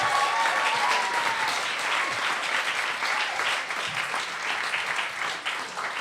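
An audience claps steadily and densely for a performer at a live-streamed music programme, a full, even wash of applause that carries on for the whole stretch with no talking over it.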